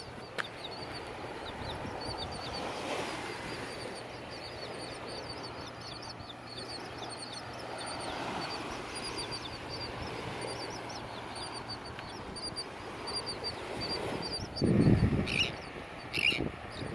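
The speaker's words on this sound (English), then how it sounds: "And so many birds." Ducks and other birds calling on a shell-strewn beach, a steady chorus of quacks and chirps at a moderate distance over constant wind or surf noise, with a louder burst of calls near the end.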